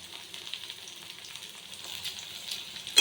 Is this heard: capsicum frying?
yes